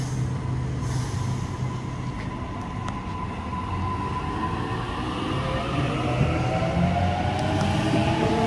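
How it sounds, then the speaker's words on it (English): A passenger train moves through Rhodes station during the afternoon peak with a rumbling roll and rising, shifting wheel and motor tones, fairly near and steady throughout, with no talking. "So today we'll be doing some train spotting here in the afternoon peak for about 20 or so minutes."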